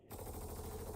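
A PA SMG fires a rapid, continuous automatic burst in Star Citizen, dense and steady for about a second right after a short silence.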